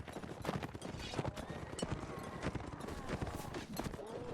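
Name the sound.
horse galloping in video game Mount and Blade Warband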